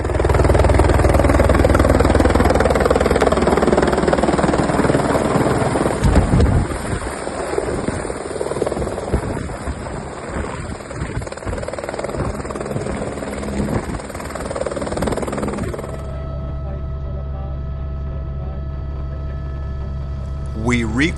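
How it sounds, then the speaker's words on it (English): A helicopter arrives and flies over the Himalayas near Gokyo Lake in Nepal, its rotor and engine a loud, steady, close roar that dips and shifts near the end. "and our chopper soon arrived."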